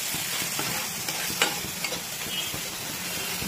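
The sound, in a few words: stirring turmeric into fish curry in pan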